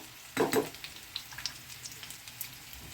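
Fried onions in a pan with ginger paste and garlic paste just added, a close burst of sizzle as the paste lands, then quieter steady frying with light ticks.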